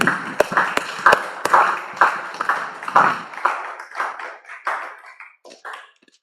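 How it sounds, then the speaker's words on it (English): Church congregation claps during a morning worship service in a reverberant hall, sharp individual hand claps ringing out loud at first, then thinning and fading away toward the end. "Let's give another clapping offering unto the Lord"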